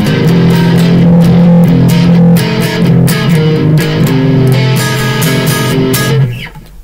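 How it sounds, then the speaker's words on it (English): Distorted electric guitar riff through a Marshall amp in a home studio, loud and sustained with chugging chords and bright overtones throughout, no talking. "That's the sound of my Marshall amp over here."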